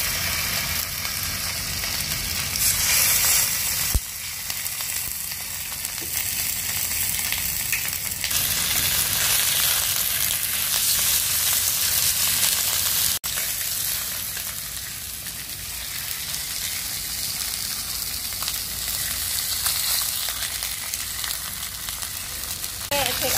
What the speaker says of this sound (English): Take salmon to fry